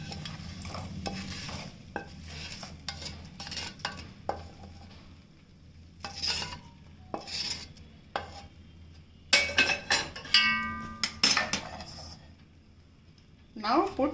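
A spoon scrapes browned cashew tempering from a pan into a small side dish, producing scattered metallic clinks and scrapes and a low background sizzle, getting louder toward the end, with no talking.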